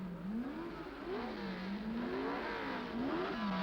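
Racing cars at the Dutch Grand Prix, with Jim Clark's Lotus 25 leading, give a continuous engine drone whose pitch rises and falls as the cars rev and shift, slightly muffled and held at a moderate distance.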